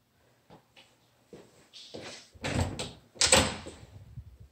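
The front door of a house knocks and thuds in a few close, solid bursts during the last couple of seconds, after quieter scattered clicks, with no talking.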